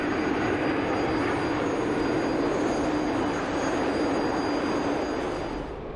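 Steady, loud roar of an F-104G jet in a flight simulator game as it climbs, a constant broadband engine rush with a faint high whine, holding level before easing off slightly at the end, no voices.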